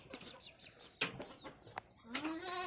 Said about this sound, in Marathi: इथे कोंबड्या कशा बसलेल्या आहेत दिवसा खाऊन पिऊन